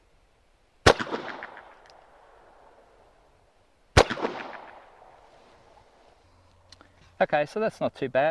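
Two sharp, loud reports from a Ruger Security Six .357 Magnum revolver come about three seconds apart, each ringing off into a decaying echo, followed by someone talking.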